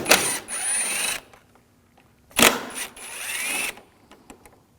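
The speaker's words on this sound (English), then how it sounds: "Now we're going to take these screws out, use a T30 socket." A tool turns out screws with a T30 socket on a 2006-2009 Audi S4 during an HID ballast replacement, heard as two whirring bursts about a second long, separated by a short pause and followed by faint clicks.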